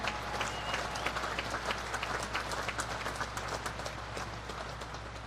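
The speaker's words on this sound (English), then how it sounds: "How about a round of applause for the Navy Band?" Audience applause for the Naval Academy Band at the 2017 US Naval Academy graduation ceremony, a large crowd clapping steadily and densely for several seconds, fairly distant with a broad, even roar and no talk.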